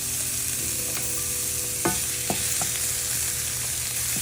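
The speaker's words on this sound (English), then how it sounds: "I'm gonna add a little bit in there, and I'm going to stir it up" Garlic and onion stirred into rice frying in a pan, a steady loud sizzle with a few scrapes of the spoon, close, with no talking.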